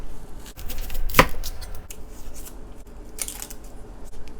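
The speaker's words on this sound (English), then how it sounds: "Now thinly slice." A knife thinly slicing half an onion on a cutting board, with one sharp cut standing out near the start and softer slicing strokes after it, close and fairly quiet.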